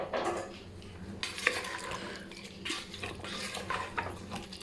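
Mutton being stirred in a pot with onion, tomato, spices, ginger-garlic paste and water, a spoon scraping and clinking against the metal in irregular bursts, close up with no talk.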